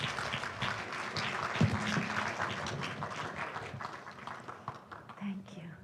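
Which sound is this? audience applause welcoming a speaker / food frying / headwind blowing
audience applause welcoming a speaker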